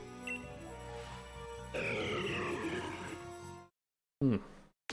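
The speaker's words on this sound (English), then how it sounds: "Got coffee burps." A deep, drawn-out burp after drinking coffee, rumbling for nearly two seconds close to the microphone, then a short second croaky burp after a brief silence, with game music underneath at the start.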